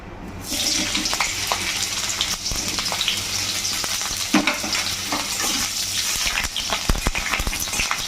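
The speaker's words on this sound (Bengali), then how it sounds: "প্রথমেই ফুলকপিটাকে ভেজে নিই" Cauliflower florets sizzling in hot oil in a wok for a Bengali cauliflower and prawn dish, a loud, steady crackling fry with sharp spits and pops throughout, no voices.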